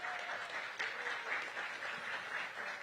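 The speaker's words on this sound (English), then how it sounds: "So let's give them a big round of applause." Steady applause from an audience at a mayoral event launching a Black restaurant week, honouring local restaurants; moderately loud, even clapping for about three seconds.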